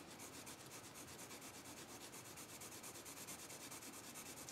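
Watercolor pencil with a wooden barrel drawing across paper, giving a steady, close scratchy rubbing that continues evenly throughout with no talking.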